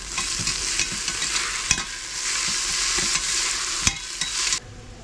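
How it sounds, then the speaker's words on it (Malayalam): Chopped onions fry with a continuous sizzle as a spatula scrapes and knocks against the pan several times, ending abruptly; close and fairly loud, no talking. "സവാള ചേർത്തിട്ട് നന്നായിട്ടൊന്ന് ഇളക്കി കൊടുക്കാം"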